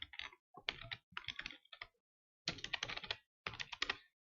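Someone types on a computer keyboard in quick bursts of clicking keystrokes, split by short pauses, close and fairly quiet.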